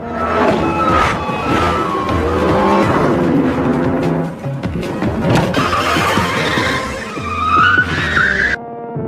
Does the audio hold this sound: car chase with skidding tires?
yes